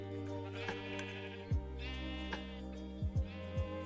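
Minecraft sheep bleat several times, short wavering calls over a steady tonal music bed, quiet and close, with about five bleats spread irregularly across the stretch.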